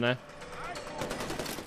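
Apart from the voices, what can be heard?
gunfire in the video game Far Cry 4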